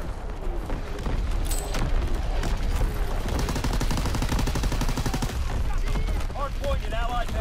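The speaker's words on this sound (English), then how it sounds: "Firing division artillery." Heavy artillery barrage in a WW2 video game: a dense, continuous roll of booming and crackling gunfire fills the whole stretch at steady loudness, with voices briefly audible in the mix.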